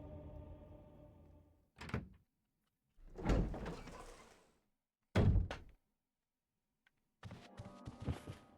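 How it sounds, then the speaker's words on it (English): A door being unlocked and opened in the Resident Evil REmake video game: a lock clicks and clunks in a few separate bursts, then a heavy door creaks open and thuds, with short silences in between. "You unlocked the door."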